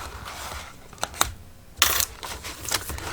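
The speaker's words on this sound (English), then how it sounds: "So I can release all of these paper clips from the ones that we're done with" Metal paper clips are released one after another from thick paper signatures of a bee-themed junk journal, giving several sharp, light metallic clicks and clinks spaced over a few seconds against quiet room noise.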